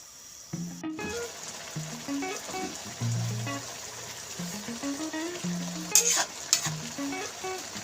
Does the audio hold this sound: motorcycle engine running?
no